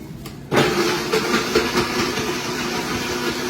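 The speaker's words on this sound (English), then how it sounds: "I'm going to talk over the blender while it's going" Blender switching on abruptly to blend a keto pumpkin spice smoothie, a loud steady churning whir that holds close by after a brief quiet start.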